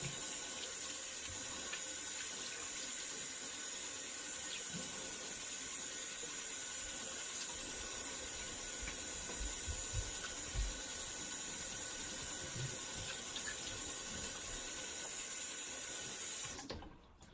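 Running tap water pours steadily into a sink while someone rinses off during a shave, a continuous close splashing rush that lasts nearly the whole time before cutting off at the end.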